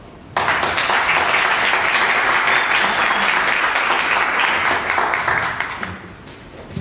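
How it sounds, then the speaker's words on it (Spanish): An audience at a panel event on justice and prevention bursts into applause, a dense, loud, sustained wash of clapping that swells at once and fades out after about six seconds. "Un aplauso."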